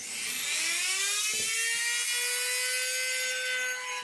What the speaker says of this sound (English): I am going to take my rotary tool again, and I have this attachment